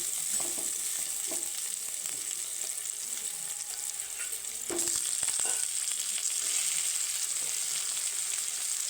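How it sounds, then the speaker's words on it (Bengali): Onions frying in a hot pan while being stirred, a steady close sizzle with scraping stirs, no talk. "পেঁয়াজটা আমার ভাজা হয়ে এসেছে"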